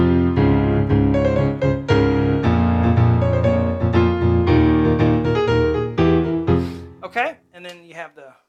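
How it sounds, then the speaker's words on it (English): A keyboard plays a riff with layered strings, crunch guitar and harpsichord sounds, loud and continuous chords with a rhythmic melody, ending in a few trailing notes. "the strings and the crunch guitar strings and the harpsichord sound layered"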